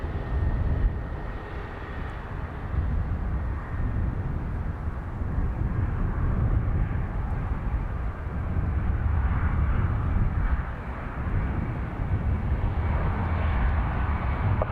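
A Qatar airliner rolls past at Dublin Airport, a broad low engine roar that swells and eases for the whole stretch, steady and fairly loud, with no talk over it.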